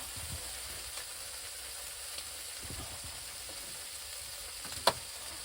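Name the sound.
bacon sizzling in a pan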